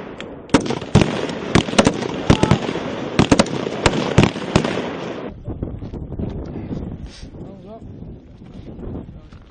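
Gunfire rings out during a US Marines heavy live fire exercise, loud rapid shots cracking in quick succession amid wind noise for about five seconds, then stopping and leaving quieter outdoor rumble with faint voices.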